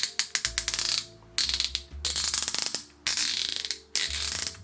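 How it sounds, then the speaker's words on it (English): The silver section of a 14th Doctor sonic screwdriver toy is twisted back and forth, making loud, close bursts of rapid ratcheting clicks in four or five separate turns with short pauses between them. "you've got like the silver bit, which looks like it's from the Master's laser screwdriver, which twists around like so"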